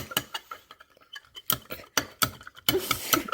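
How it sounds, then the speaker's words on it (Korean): A spoon stirs a drink until it dissolves, making a run of light, irregular ticking clinks against the cup, close and quiet, with no voices. "녹을 때까지 저어주세요."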